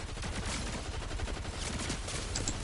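Rapid gunfire in the video game Fortnite, a dense, continuous burst of overlapping shots at steady loudness with no pauses, with no one speaking.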